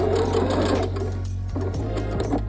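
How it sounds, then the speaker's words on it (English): Up close and loud, a sewing machine hums continuously while back stitching a seam on a denim dress, its motor tone dipping and shifting partway through as the stitching reverses. "I'm gonna back stitch there."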